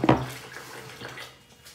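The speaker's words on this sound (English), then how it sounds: "you need a vase, and we're gonna put water in it" Water poured into a flower vase, a brief splashing gush at the start that quickly settles into a softer trickle and fades, heard alone.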